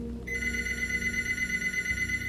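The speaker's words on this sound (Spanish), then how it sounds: "Entonces sonó el teléfono en la sala de maestros." Telephone ringing in a teachers' room, used as a horror-story sound effect: a sustained electronic ring that starts abruptly and continues steadily, close and clear, with no voices.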